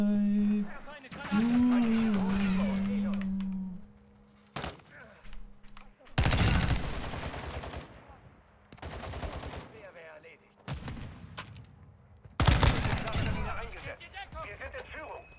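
Automatic weapons fire rattles out in several loud, separate bursts with brief pauses between them during a Call of Duty match, and a player's voice is heard at the start.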